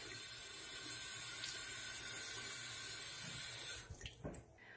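Tap water runs steadily over a snake's head, a continuous close hiss of flowing water that cuts off near the end, followed by a few soft knocks.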